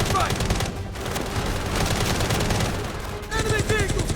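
Dense, sustained video-game gunfire during an air strike, with rapid automatic bursts and shots layered over a constant battle din, loud and continuous; a voice briefly calls out near the end.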